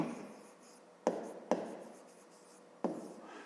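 Writing out a math expression by hand, three sharp pen-on-paper strokes with scratchy tails, close and quiet with no voice.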